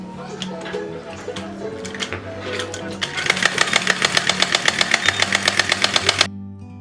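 Sewing machine stitching along the edge of a fabric cord, a rapid regular run of needle strokes starting midway and stopping abruptly, preceded by handling noises and a low hum.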